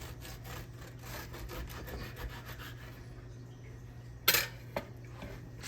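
A knife saws through a loaf of homemade white bread in rapid rhythmic strokes, close and fairly quiet, then falls away to a low hum before a couple of brief knocks near the end.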